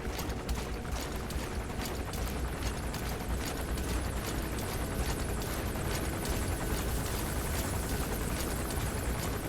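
Helicopter in Metal Gear Solid V: The Phantom Pain, a loud continuous rotor roar with a fast, even chopping pulse that fills the whole clip without letting up.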